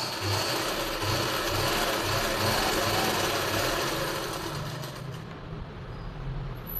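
A sewing machine runs steadily while stitching a silk suit, close by with a continuous mechanical whir and faint rhythmic ticking underneath, easing slightly near the end.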